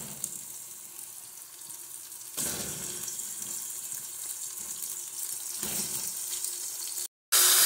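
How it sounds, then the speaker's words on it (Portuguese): Coxão duro beef searing in the bottom of a pressure cooker pot over fried onions and green onion, giving a steady sizzling hiss that swells louder partway through, then cuts off briefly near the end. "Vamos colocar aqui agora a nossa carne para selar."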